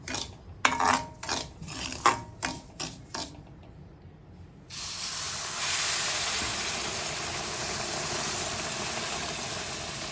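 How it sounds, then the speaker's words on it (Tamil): Boiling water poured into roasted semolina in a pan for mango kesari gives a steady, loud steaming hiss and sizzle that runs unbroken for several seconds, after a few short clinks and knocks from the pan. "இப்போ தண்ணி கொதிக்க வச்சிருக்கேன். அதை எடுத்து இதில் ஊற்றிக்கலாம்."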